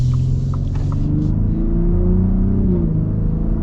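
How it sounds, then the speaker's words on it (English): A Ford F-150 Raptor's exhaust rumbles loud and close as the truck accelerates, a deep droning engine note climbing in pitch before briefly dipping as it shifts. "Love the exhaust."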